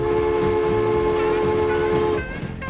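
A train running in the Transport Fever simulation game, with a steady mechanical rolling hum and tonal whine that holds loud and even for about two seconds, then drops to a rougher, quieter texture at the end.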